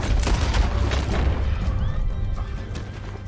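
A horse whinnies in the Western video game Red Dead Redemption 2, a loud neigh over heavy booming gunfire and crashing game noise, with hoofbeats in the mix and no talk.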